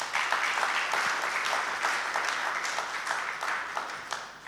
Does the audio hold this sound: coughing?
no